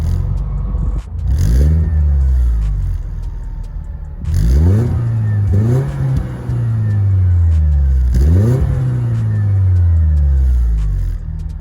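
A Mercedes supercharged inline-four revs through a single-exit exhaust in three distinct bursts, each climbing sharply and then falling back to a rumbling idle. The sound is loud and close, with no voices over it.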